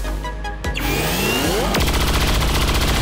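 Chain shot gunfire in XCOM 2: a sharp shot cracks, then a sweeping whoosh follows, and a second loud shot lands that leaves a ringing buzz, all over steady game music.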